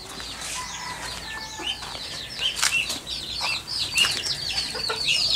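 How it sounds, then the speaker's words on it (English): Small birds peep and chirp in quick repeated calls near a chicken coop, a baby duck or chick among them, with some wing flutters, fairly close and moderately loud. "Where's that baby duck sound coming from?"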